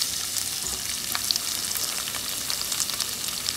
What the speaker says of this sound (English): The onions and the capsicum are sauteed well.